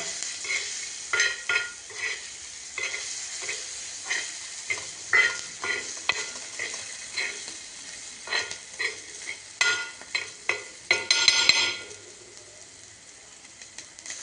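Garlic frying with green chillies for a Maharashtrian thecha, loud close sizzling interrupted by a string of rhythmic scraping stirs, about a dozen strokes that quicken and intensify before fading to a quieter sizzle.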